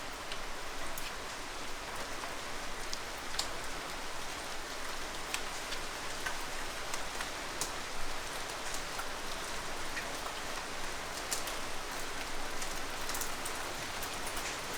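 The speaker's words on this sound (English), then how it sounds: "Soothing sound of rain." Steady rain falls without pause, a dense even hiss dotted with scattered crisp drop ticks, close and moderately loud throughout with no voices.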